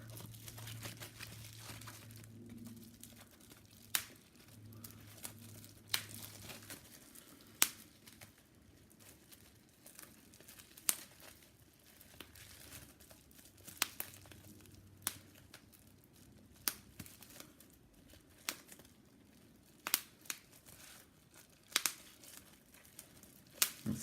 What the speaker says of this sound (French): Pendant, je vais faire claquer mon papier bulle.